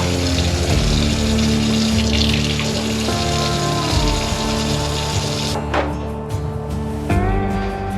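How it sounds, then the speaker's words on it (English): Cold tap water gushes steadily over a squirrel carcass being cleaned in a sink, a loud continuous splashing rush that shifts in tone as the flow hits the body. "Just gonna run it under some cold water"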